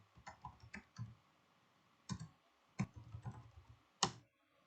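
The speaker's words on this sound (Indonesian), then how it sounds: "sekarang kita akan coba mengetikkan ipconfig renew" Someone types on a computer keyboard in short bursts of sharp clicks with pauses between, then a few single louder keystrokes, close and quiet with no talk.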